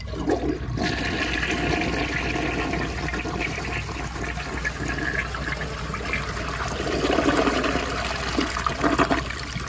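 A 1977 round Vitromex toilet flushes loudly and close by. Water rushes and swirls steadily throughout, then surges again near the end before trickling on.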